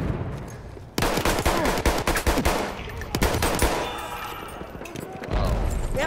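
Rapid gunfire in Battlefield 1 erupts after a brief pause, dense close bursts of shots rattling continuously with a short lull before firing resumes, heavy and loud throughout.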